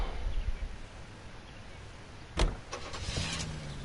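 A car engine hums in the L.A. Noire video game, with a sharp mechanical clunk partway through followed by a steady, faint motor drone.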